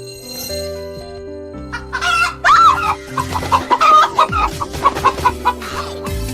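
A chicken clucks close by in a rural home scene, a busy run of short clucks and squawks over a soft musical background, with no voices.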